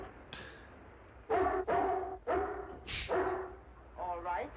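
A dog barks in the 1960 horror B-movie Tormented, giving about six sharp, fairly loud barks in an uneven series after a quiet start.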